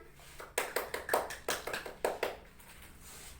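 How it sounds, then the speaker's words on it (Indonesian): Students in a classroom give a round of hand clapping, a short, fairly faint burst of quick, uneven claps from a small group lasting about three seconds before fading out. "Beri tepuk tangan"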